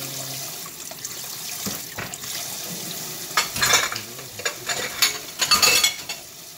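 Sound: washing goji tomatoes under running tap water

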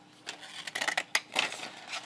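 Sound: scissors cutting paper for collage

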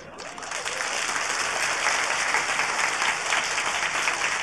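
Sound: audience clapping

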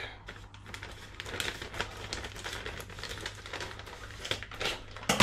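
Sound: scissors cutting open plastic food pack

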